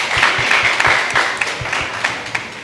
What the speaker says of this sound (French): Il faut que vous applaudissiez pour nous-mêmes.